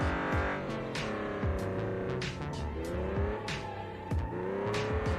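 Car in the BeamNG driving game drifting and accelerating with handbrake use, engine revving and shifting pitch continuously while tires squeal in repeated bursts, loud and close, no voices.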